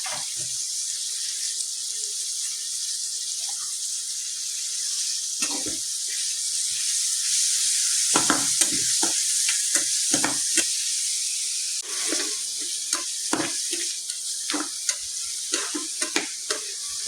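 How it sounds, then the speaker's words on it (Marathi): Onion frying in hot oil gives a loud, steady sizzle, broken by clattering stirring scrapes and sharp spattering pops that bunch up toward the end. "आतां घालुया कांदो तळसुवपाक"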